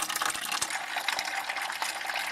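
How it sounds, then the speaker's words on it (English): Windshield washer fluid from a 2003 Nissan Altima drains into a bucket as a steady close splashing trickle with scattered drips and small plops throughout, no talk. "So we'll just let that drain out into this bucket down here."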